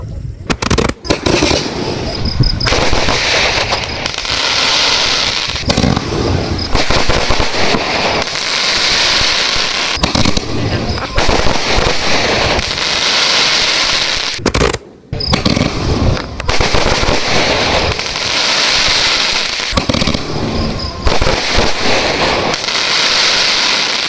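A 100-shot aerial firework box fires continuously, a dense, loud barrage of rapid cracks and pops with a single brief pause midway, close and overwhelming throughout.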